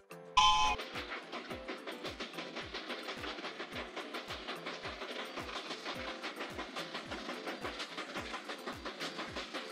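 A LEGO DUPLO steam train rolls along its tracks with a steady, evenly spaced clickety-clack that keeps a brisk rhythm throughout, starting with a brief louder burst before settling into a continuous, moderately loud run.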